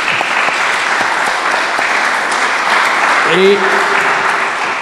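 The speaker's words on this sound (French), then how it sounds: "Applaudissements pour Éric Cazot." An audience at a property event applauds a speaker, a dense, even wash of clapping lasting several seconds, with a brief voice heard faintly beneath it.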